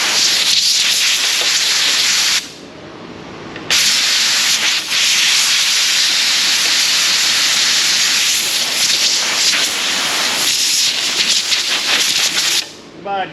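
Compressed air blasting dirt off parts of a melted pump from a 1992 Isuzu pickup, a loud, close, continuous roaring hiss with two brief pauses where the airflow stops.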